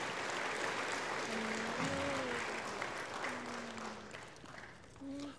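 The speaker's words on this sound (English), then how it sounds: "Let's give them a round of applause." Steady applause from an audience fills the whole clip, with a voice briefly speaking over the clapping.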